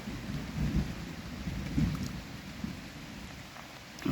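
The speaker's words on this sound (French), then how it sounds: "Bon, je sais pas si vous entendez, mais on a de l'orage là ce soir." Nighttime thunderstorm in woods near a campsite: low rumbling thunder rolls in soft waves over steady rain pattering on surfaces, fairly faint and distant.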